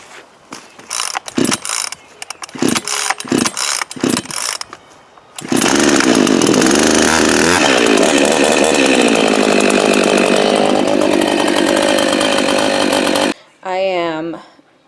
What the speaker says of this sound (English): I am using my new chainsaw